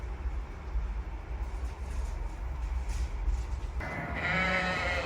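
Sheep bleat from fairly close by in the last second, over a steady low rumble of outdoor farm machinery or wind at night that fills the whole stretch.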